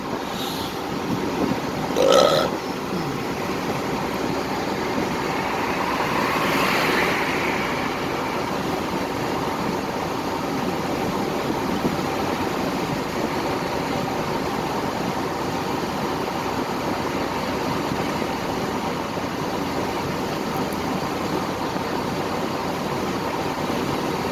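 A one-ton truck towing a loaded trailer at highway speed gives a steady, loud roar of road and wind noise inside the cab, a constant broadband drone with a brief bump early on.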